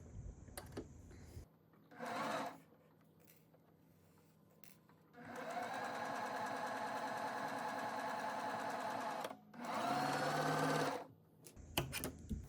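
Tabi slippers are stitched on a sewing machine in a few distinct runs, a short burst followed by a long steady stretch and another brief run, each with a clear mechanical whir close by.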